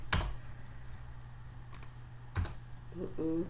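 A few scattered computer keyboard key presses, sharp isolated clicks with quiet gaps between them against a low steady hum, followed by faint murmuring at the end.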